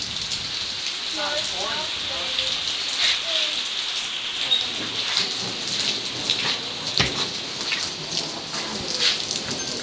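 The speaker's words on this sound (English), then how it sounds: "It is raining and lightning." Rain patters steadily in the foreground during a lightning storm while dull thunder rumbles at a distance, with a few birds chirping faintly.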